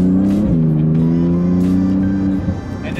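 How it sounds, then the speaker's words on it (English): Porsche 911 GT2 RS (2019) with its exhaust valves open, a loud, close engine climbing steadily in pitch under acceleration, then a quick shift near the end as the revs drop and rise again. "switch on the exhaust, make it louder, open up the valves"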